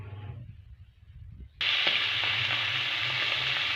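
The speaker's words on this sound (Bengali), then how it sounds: "মাছটাকে হালকা লাল করে ভেজে নেব" Bata fish frying in hot white oil in a kadai, starting as a sudden loud, steady sizzle after a quiet moment and continuing without a break, close to the listener.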